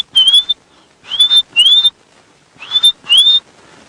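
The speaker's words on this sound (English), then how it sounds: "You might also be able to hear a bird going." A bird on a safari drive at sunset gives an alarm call: four or five sharp, rising whistled notes in quick bursts, loud and close, with brief pauses between them and no talking.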